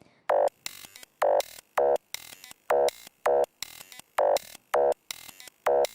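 A resampled drum clip gives off short, buzzy telephone-like tones, evenly spaced and repeating in a steady stop-start rhythm of loud bursts with quieter clicks between them, heard alone.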